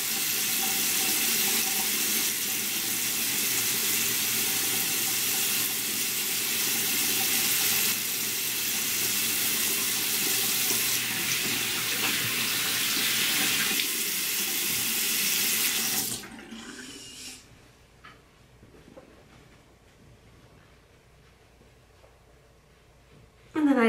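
Water running from a bathroom sink tap as it warms up, a steady loud broadband rush that goes on for about sixteen seconds before stopping and leaving quiet room sound.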